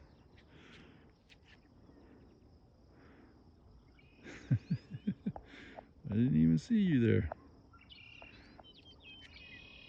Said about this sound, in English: Oh, red-winged blackbird.